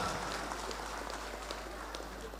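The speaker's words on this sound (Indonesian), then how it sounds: "Tepuk tangan buat Pak Anton." Faint, steady clapping from a crowd at a village event, distant and continuous, with a low hum underneath.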